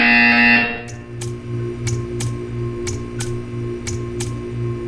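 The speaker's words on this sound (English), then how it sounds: "You will hear a buzzer." Buzzer in the Portal 2 video game: a short series of sharp, evenly spaced electronic buzz pulses, about one per second, over a steady humming room tone after a brief tonal opening.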